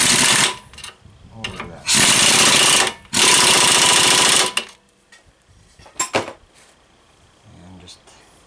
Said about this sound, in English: I'm going to try and rattle it tight with my impact.